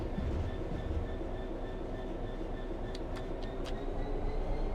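A Class 66 diesel freight locomotive in the Train Sim World 5 video game runs with a constant, loud rumble and engine drone heard from the cab, with a few brief high squeals or clicks near the end.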